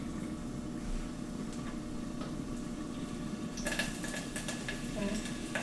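Onions cooking in a pan with the low sizzle of a shrimp and tomato sauce dish, a soft steady hiss under a background hum, then clinks of a utensil against the pan toward the end.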